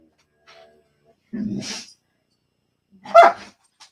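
Two separate barks from dogs nearby, loud and short, with brief quiet gaps between them.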